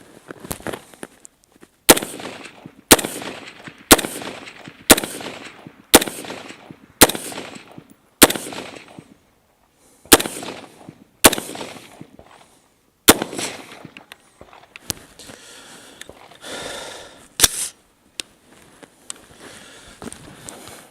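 Sharp gunshots fired at a target ring out one after another at a steady pace, loud and close, with a few scattered shots and rustling movement toward the end.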